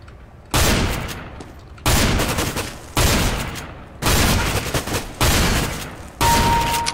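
Shotgun blasts from a Nova in Counter-Strike: Global Offensive, six loud, sharp reports spaced about a second apart, each with a short ringing tail, ending on a headshot.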